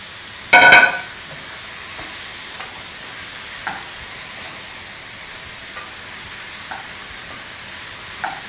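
Diced potatoes dropped into a hot pan of zucchini, onion, garlic and peppers for Latin ratatouille: one loud burst of sizzling, then a quieter steady fry with faint stirring clicks.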